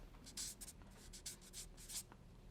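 A pen scratches quickly across paper in short strokes as notes are written, faint and close in a quiet room.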